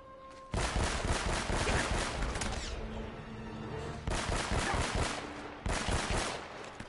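Bursts of automatic enemy gunfire in the video game Uncharted: Drake's Fortune, loud rapid rattling volleys in three separate strings with short gaps, no talk.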